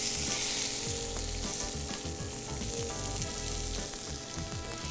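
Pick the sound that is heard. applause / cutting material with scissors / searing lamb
searing lamb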